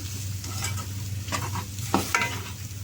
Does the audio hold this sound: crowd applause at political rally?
no